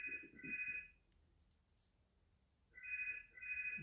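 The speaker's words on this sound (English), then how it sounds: "it was my phone ringing." A mobile phone ringtone chirps in two short electronic bursts, pauses for about two seconds, then sounds twice again, fairly quiet.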